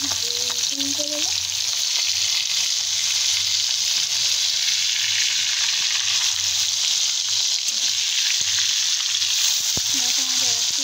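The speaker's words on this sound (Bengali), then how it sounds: "এভাবে সব মাছগুলোকে আমরা সুন্দরভাবে উল্টে দেবো।" Fish pieces fry in a pan of hot oil, a steady loud sizzle running throughout, with occasional clinks and scrapes as the soft fish is turned over.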